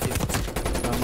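Rapid automatic fire from a KRIG 6 assault rifle in Black Ops Cold War, a dense rattling burst of close, loud shots running continuously through the whole moment.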